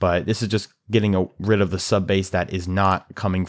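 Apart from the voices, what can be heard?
None of the usual background noises is heard.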